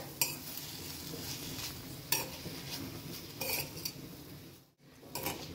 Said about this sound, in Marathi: हे सगळं आता आपण मिक्स करून घेऊया.